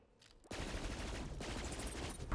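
Rapid automatic gunfire in Borderlands 3 erupts abruptly after a brief quiet moment, then holds as a dense, continuous burst of shots at high volume, close and unbroken for about two seconds.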